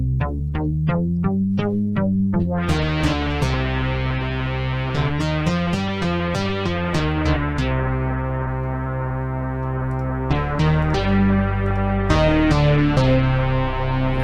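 A fat, buzzy synthesizer patch plays a repeating melodic line with a deep bass layer, steady and loud throughout, no voices.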